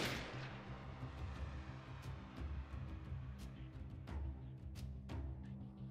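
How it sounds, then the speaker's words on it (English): An enemy fires at the player in Freeman: Guerrilla Warfare, with sharp, distant-sounding shots spaced irregularly over a low rumbling game background. "Oh, now he's shooting. He's within range now."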